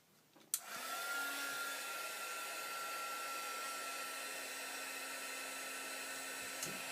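A heat gun melting embossing powder on chipboard starts with a click and runs as a steady, close whooshing blower hum for several seconds, then clicks off near the end, with no talk.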